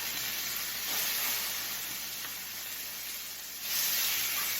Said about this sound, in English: put the chicken in the hot oil. You hear it sizzling, so you know it's hot.